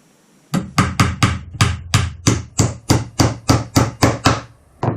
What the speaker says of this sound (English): just kind of swing it and let it fall onto the nail